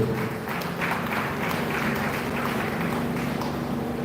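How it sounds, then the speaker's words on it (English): A gathering at a tribute for a late father claps in a steady patter of many hands, moderately near and unbroken, with a faint low hum underneath. "Keep clapping."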